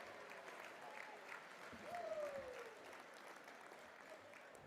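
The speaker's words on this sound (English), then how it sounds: "Can we have a round of applause for all of our generous supporters?" A round of applause from banquet guests at a national convention dinner, faint and distant, a steady patter of clapping with a brief swell partway through.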